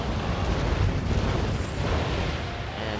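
Building demolished in SimCity: a steady, dense rumbling roar with a deep low-end boom, loud and continuous throughout like a collapsing structure.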